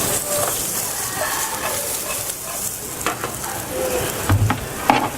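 Onion and green peppercorns fry in a pan that already holds duck breast, giving a loud, steady sizzle with occasional stirring scrapes throughout.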